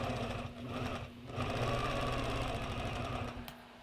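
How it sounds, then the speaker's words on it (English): Longarm quilting machine stitching along the edge of a quilt to baste it down, a steady rapid mechanical hum and needle chatter running continuously with slight speed changes, close and alone without talk. "what you're seeing here is I am basting the edge of that quilt down"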